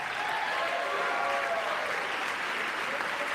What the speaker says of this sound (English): Women are standing up and cheering